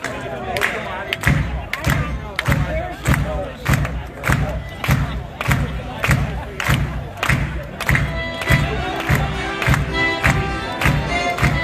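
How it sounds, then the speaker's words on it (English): Audience at a Polish-American arts festival concert claps steadily along to a polka beat by a concertina band, rhythmic hand claps and thumps repeating evenly under the music throughout. "Help me out with a little bit of hand clapping that goes to this beat"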